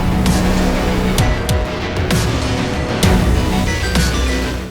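Renault Duster AWD driving with traction control switched off, a steady close engine drone with brief sharp tire squeals and bursts as the car is pushed hard.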